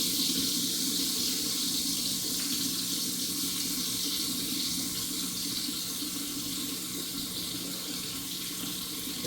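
Hot water running steadily from a kitchen tap into a sink, a constant close rushing hiss that fills the whole stretch without pause.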